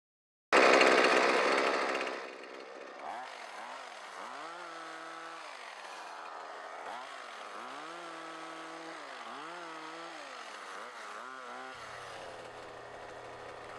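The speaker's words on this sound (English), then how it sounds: "Here you'll see we're using power tools, which can speed up the process" Gas-powered tools pruning raspberry canes in a field: a loud engine burst at the start, then a lower running motor that rises and falls repeatedly as it cuts.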